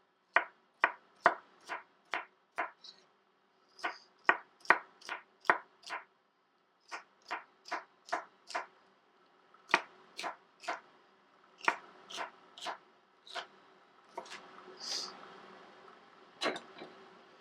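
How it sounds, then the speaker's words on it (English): A knife chops celery on a cutting board in a close, quiet series of crisp, evenly spaced strikes, about two dozen in all, broken by brief pauses with no talking. "While I chop up our celery."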